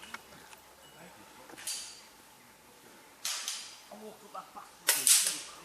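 Rat Works Ranger air rifle fired outdoors at a field target: a few sharp, quick cracks spaced a second or more apart, close and moderately loud, over a faint outdoor background.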